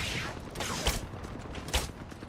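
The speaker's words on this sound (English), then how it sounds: "They're shooting at me." Video game gunfire during a team shooter match, heard as two sharp, short shot bursts about a second apart over a steady wash of game background noise.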